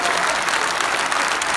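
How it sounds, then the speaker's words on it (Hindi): Audience at a Doha Urdu poetry mushaira bursts into dense, sustained applause, loud and close for a short stretch. "इस शेर पे इस तरह तालियां बजाइए"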